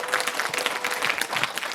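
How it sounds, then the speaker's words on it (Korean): An audience at a workshop event gives a brief burst of dense, loud applause, sustained evenly throughout. "여러분 다시 한번 큰 박수 부탁드리겠습니다."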